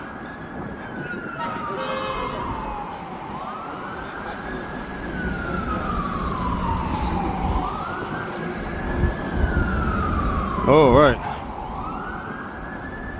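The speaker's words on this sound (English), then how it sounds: "Some sirens coming from down that direction." A wailing emergency siren, likely a fire truck, rises and falls repeatedly at a distance on a city street, with a brief yelping burst near the end and a short spoken remark over it.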